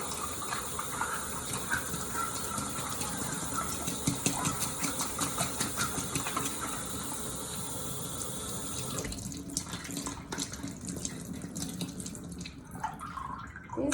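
Tap water runs steadily into a sink while makeup brushes are rinsed clean of soap, a continuous close splashing gush that shifts and thins slightly toward the end.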